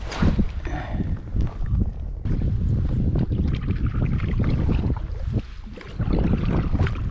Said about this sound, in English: The wind's blowing in the wrong direction though, so we keep on getting blown back